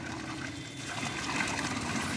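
Water runs steadily from a free public tap in Kathmandu, a continuous close gushing splash with no pauses.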